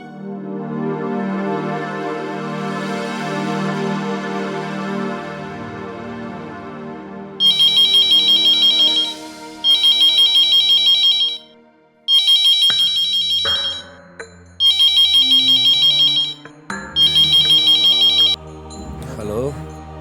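Mobile phone ringtone on an outgoing call, a repeated electronic trill in five regular bursts with short pauses, following a stretch of melodic background music and faint voices.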